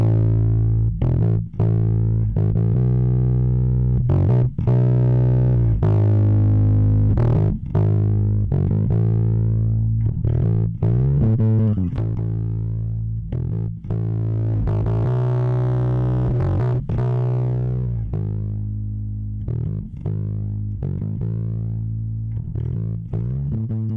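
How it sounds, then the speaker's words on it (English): A bass part plays through an opto compressor, a UAD LA-2A plugin against a Warm Audio WA2A hardware unit, with the output cranked into heavy distortion. Gritty, sustained notes follow one after another with no talking. "I've cranked the output just to test the distortion."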